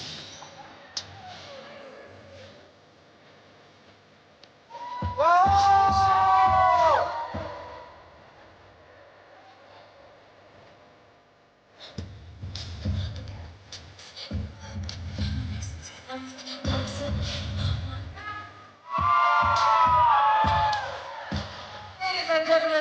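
A crowd at a Miss Universe 2023 welcome appearance cheers and whoops in loud swells, rising sharply at first, fading, then building again into sustained roaring with shouting voices mixed in.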